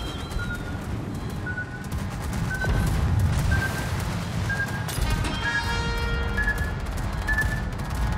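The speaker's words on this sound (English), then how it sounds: "Anti-aircraft gun crews are on full alert." Anti-aircraft guns fire in World of Warships, a dense, sustained barrage of rapid overlapping bursts and booms that stays loud and continuous throughout.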